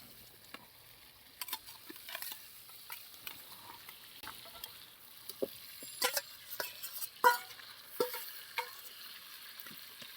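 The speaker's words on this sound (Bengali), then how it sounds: "এখন আমি ভাজা মাছগুলো দিয়ে ভালোভাবে কষিয়ে নেব" Fried rita fish sautés in oily spice masala, giving faint sizzling with scattered scraping and stirring clicks from a utensil, quiet and close with no talk.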